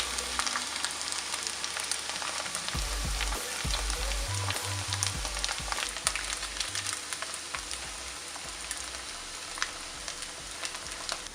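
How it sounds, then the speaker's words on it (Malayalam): Chicken pieces deep frying in hot oil for chilli chicken, a steady, dense sizzle and crackle running throughout at close range with no talking, broken by a few low thumps from handling in the pan. "ബാക്കിയുള്ള ചിക്കനും നമുക്കിതുപോലെ കുറേശ്ശായിട്ട് വറുത്തെടുക്കാം."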